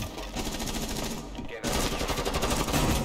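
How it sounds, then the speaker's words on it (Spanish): A shotgun fires in the Rainbow Six tactical shooter amid rapid, dense gunfire, with heavy blasts growing louder after a brief dip midway, and voices mixed under the shooting. "¡Es que revienta esta escopeta, chavales!"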